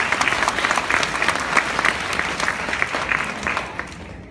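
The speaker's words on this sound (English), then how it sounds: "If we could give them a round of applause." A room applauds PTA volunteers at a school DARE graduation. Many hands clap in a lively, steady burst that fades slightly toward the end.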